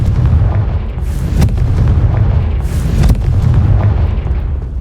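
A Confringo spell explodes in the Hogwarts Legacy video game, deep booming blasts with a heavy low rumble, loud and continuous, with a couple of sharper bursts rising through the roar.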